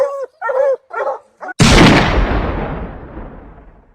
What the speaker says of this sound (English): the noise that these dogs make and how terrifying it is for any other wildlife